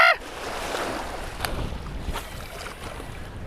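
Wake waves from a passing boat slap against a fishing boat near a jetty on a large lake. A continuous rushing wash of water rises and falls, with a few sharper splashes and no talking.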